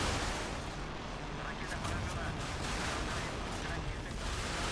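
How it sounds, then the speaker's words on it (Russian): Artillery fire rumbles in a naval battle in the Modern Warships game, dense booms and crackling blasts layered over a constant roar, continuous and fairly loud, with a voice speaking over it. "арта пуляет во все стороны"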